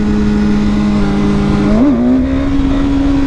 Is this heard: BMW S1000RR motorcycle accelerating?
yes